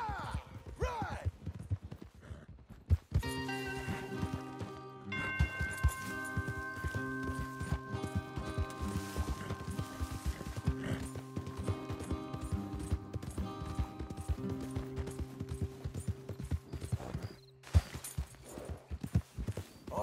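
Horses walk with rhythmic clip-clopping hooves, a steady stream of fairly close hoof strikes running throughout beneath a musical score and brief voices.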